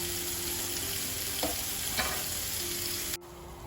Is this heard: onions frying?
yes